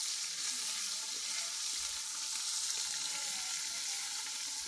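Cinnamon and onion sizzle steadily in hot oil in a pan for village-style tomato rice, a dense, even frying hiss that holds at one level throughout with no voices.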